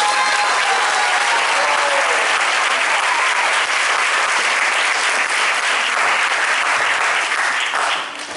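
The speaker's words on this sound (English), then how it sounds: "He gets a nice round of applause for all of us." A live audience at a Hare Krishna spiritual initiation gathering gives a full, sustained round of applause that holds steady for about eight seconds and then starts to taper off at the end.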